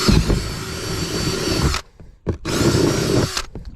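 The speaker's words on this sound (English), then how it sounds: "You got to use the drill" A power drill bores holes in a plastic compost bin, two close, loud sustained bursts of whirring separated by a short pause with faint handling noises.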